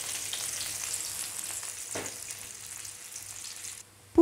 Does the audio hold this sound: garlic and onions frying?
yes